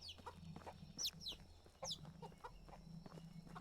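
Chickens cluck faintly inside a coop at night in the video game Medieval Dynasty. Soft repeated clucks and a few sharper squawks come close together in an uneven rhythm, with a low hum underneath.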